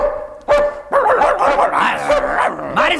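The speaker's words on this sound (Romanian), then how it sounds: "Chiamă-ți câinele, omule, nu vezi că vrea să mă muște?" A dog sound effect in a Romanian radio comedy play gives a burst of loud, close, excited barks and yips in rapid succession, with whining tones between them.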